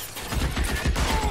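Rapid bursts of video game gunfire crackle through a chaotic firefight, repeated shots overlapping into a dense, fairly close volley with no pauses.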